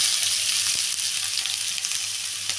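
Onion with mustard seeds and cumin frying in a spoonful of oil for okra palya, giving a loud, close, continuous hissing sizzle with no voices.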